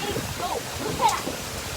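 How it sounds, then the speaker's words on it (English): Heavy thunderstorm rain pours down in a steady broadband wash, with excited voices talking over it close by. "Look at all that rain"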